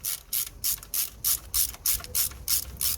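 A ratchet loosening a radiator bracket bolt on a Suzuki SV650 motorcycle clicks in about ten even, rapid bursts, close and crisp with no voices.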